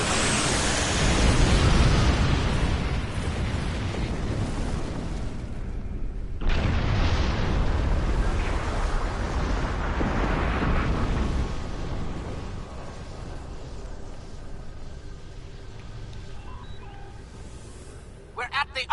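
Torpedo explosions in a Star Trek Online space battle: two long roaring blasts, each hitting hard and then washing out into a rushing, noise-like rumble that slowly fades toward near silence.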